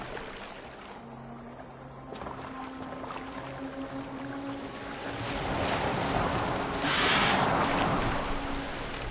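A boat glides through water in the Viking-era game Assassin's Creed Valhalla, with steady hull wash and lapping waves that swell louder toward the end over a low ambient hum.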